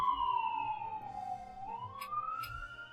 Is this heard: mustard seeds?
no